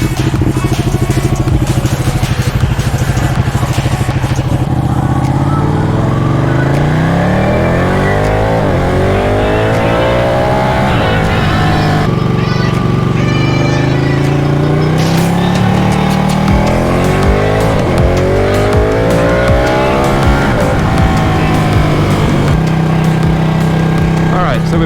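A Ducati Panigale 1199 sport bike's engine revs loud and close while being ridden, rising and falling in repeated sweeps as it accelerates through the gears, with wind noise throughout.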